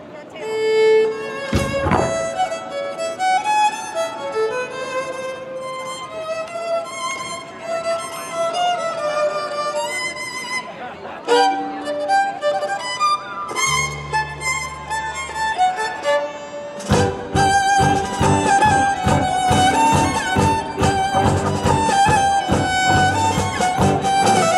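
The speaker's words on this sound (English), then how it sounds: "Sound like this when I first played the fiddle." A fiddle played deliberately badly for laughs during a live hillbilly comedy music show at Knott's Berry Farm, scratchy sustained tones and wobbling runs giving way to choppy, loud rhythmic sawing near the end, close and continuous.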